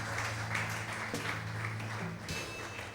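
A church congregation applauds during a worship service, a steady wash of clapping from many hands that holds at moderate loudness throughout, with faint background tones underneath.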